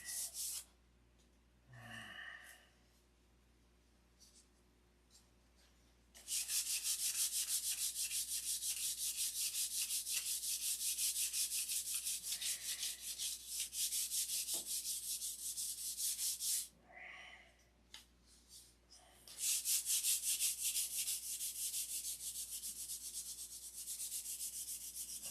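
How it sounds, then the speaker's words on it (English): Continuous hand sanding of the finish on a model being prepared for a 91 Viper-style paint job, steady raspy strokes close by in two long bursts with a short quiet gap between, no voices. "Oh, sanding and sanding and sanding."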